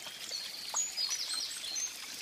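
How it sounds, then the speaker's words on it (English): A river heard from its bank gives a steady, bright rushing flow with light trickling, and faint bird chirps sound over the water with no talk. "I'm down here to the river."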